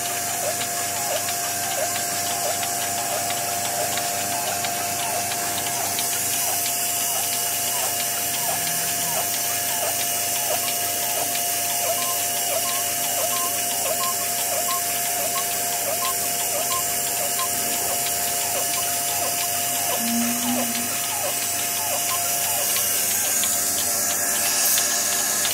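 A cow milking machine runs with a steady mechanical hiss and rapid, regular pulsing clicks, a continuous rhythmic drone close by with no voices.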